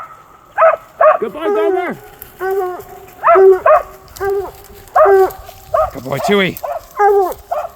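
A Karelian bear dog barks and yelps excitedly during a bear hound hunt in the British Columbia wilderness, rapid clustered barks close by, with someone speaking praise between them.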